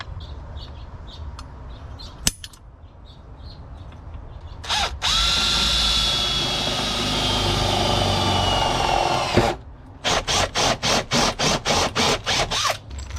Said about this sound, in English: then you got to drill another one, a third hole right there, to secure all 3 points